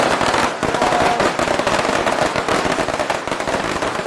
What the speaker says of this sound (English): So the firecracker's going to go now.